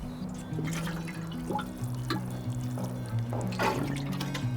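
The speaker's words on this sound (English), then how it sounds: "I'm going to give it one more water for good measure." A potted garden container being watered, with near trickling and splashing water over a steady tonal hum, and no speech.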